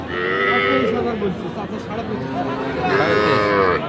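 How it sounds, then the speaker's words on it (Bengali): Young bull calves at a cattle market in Aftabganj, with two loud, close moos at the start and the end and busy market noise between them. "এগুলো কিন্তু সব ষাঁড় বাচ্চা দেখালাম"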